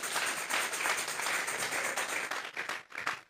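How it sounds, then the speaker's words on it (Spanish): A church congregation claps hands together in a dense, steady wash of applause that thins into a few scattered claps at the end. "Dele fuerte esas palmas al Dios de la gloria."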